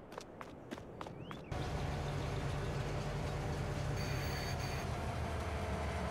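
A train in Farming Simulator 22 rolls into a station, a low continuous rumble and rail drone that kicks in abruptly after a few light clicks, then holds steady and fairly loud with a faint high whine joining later.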